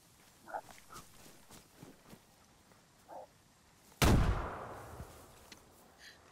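A grenade goes off in the DayZ video game after being thrown through a window: a single loud, close blast with a long rumbling tail, preceded by scattered faint game noises.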